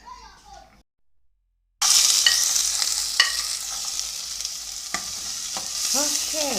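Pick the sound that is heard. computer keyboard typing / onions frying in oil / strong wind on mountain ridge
onions frying in oil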